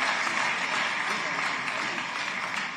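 Applause from an audience at a Madhya Pradesh government event, steady and broadband throughout, with a few voices talking underneath.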